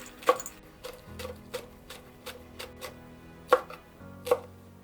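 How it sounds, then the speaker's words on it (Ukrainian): A knife chops green onion into rings on a cutting board in a loose rhythm, roughly a dozen crisp taps, with a few louder strikes standing out. "Тепер нарізаю цибульку вдвоє, так простіше, і міленько кільцями."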